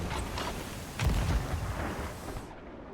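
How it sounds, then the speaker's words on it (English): Ship cannon fire in a pirate video game: one heavy boom lands about a second in, standing out from a steady, noisy battle din. "I thought that the cannon was a little close, but it wasn't actually close enough to one-ball them"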